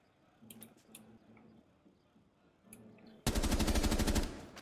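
Rainbow Six Siege gunfire: a few faint, scattered shots early on, then a loud sustained burst of rapid automatic fire near the end.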